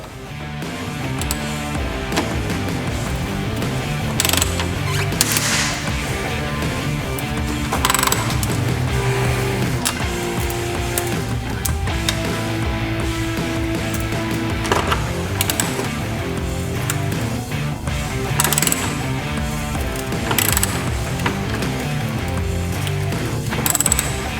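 A ratchet wrench works bolts off the radiator of a 2012 Subaru Forester, giving steady rapid clicking in repeated bursts over a long stretch, loud and close, with no talking.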